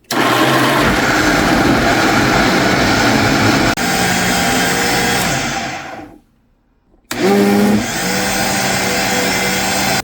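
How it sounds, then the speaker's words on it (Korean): A blender grinding soaked soybeans with water roars loudly and steadily, cuts off briefly into near silence, then starts up again with a grinding whir. "믹서기를 껐다 켰다 하면서 쉬엄쉬엄 갈아야 좋아요"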